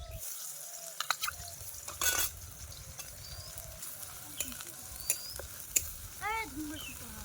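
Chopped onion and ginger-garlic paste fry in oil in a wok, giving a soft, faint sizzle with scattered stirring clinks, drips and small clatters.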